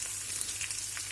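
Onion frying in a pan over raised heat, a soft, steady sizzle at low level with faint crackles and no voices.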